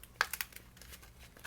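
A paper envelope crinkles and rustles as it is handled and put away, with a few quick, close crackles followed by softer scattered rustling and no talk.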